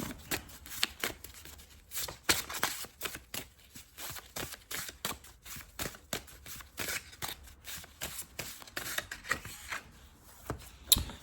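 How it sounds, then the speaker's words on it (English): A deck of playing cards being shuffled close up, with repeated quick riffling bursts and soft flicks in an uneven rhythm, alone and fairly quiet. "I'm gonna grab these cards here."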